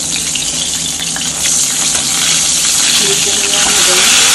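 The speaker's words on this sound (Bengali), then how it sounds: "মাছগুলো ভেজে নেবো আমরা, এবং ঢাকা দিয়ে ভাজবো আমরা।" Boal fish frying in oil in a covered pan over a medium flame, a loud, steady, close sizzle and hiss that runs unbroken and swells slightly partway through, with no talking.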